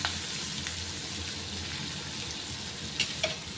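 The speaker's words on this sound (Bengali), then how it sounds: "তো ফোড়নটা একটু ভেজে নেব। তার সাথে সাথে আমি দিয়ে দেবো পেঁয়াজ।" Mustard seeds, fenugreek and onion fry in a pan for a South Indian dish, making a soft, continuous crackling sizzle with a couple of sharp metallic clinks near the end.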